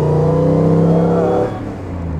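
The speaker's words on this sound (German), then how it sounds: "Tja, so hört sich so ein Motor an." A 1954 Mercedes 300 SL Gullwing's engine revs hard and loud close by, a rich, steady roar that drops back to a lower idle partway through.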